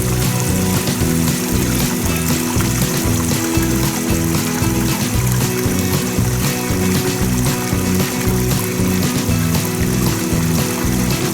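Creek water flows continuously, a dense steady rush that stays loud and close throughout, with no voices.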